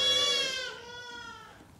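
A tiny Icelandic-Finn cross sheep or newborn lamb gives one loud, close, wavering bleat that trails off and fades over about two seconds, with no talk.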